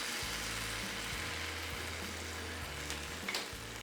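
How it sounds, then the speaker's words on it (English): Cool syrup spooned over hot, freshly baked baklava gives a faint, steady crackling sizzle with soft intermittent ticks as it spreads across the pastry, heard alone without talk. "immediately spoon the cool syrup evenly on top of your hot baklava. You will hear the sizzle sound."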